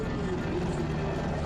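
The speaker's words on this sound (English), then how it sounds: "The Agusta Westland AW-101 is a medium-lift helicopter in military and civil use." An AgustaWestland AW-101 medium-lift military transport helicopter drones steadily and loudly throughout, a constant low rotor and engine rumble with a sustained hum and no break.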